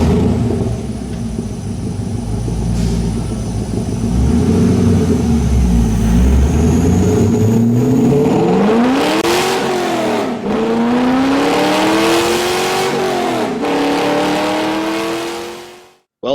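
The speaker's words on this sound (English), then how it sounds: "take this mildly modified C5 to the dyno to see how the BBK headers and exhaust system improve the performance overall" A mildly modified C5 Corvette LS engine with BBK headers and a high-flow catted X-pipe exhaust revs hard on a dyno, a loud sustained roar climbing in pitch through several rising pulls, with no talking.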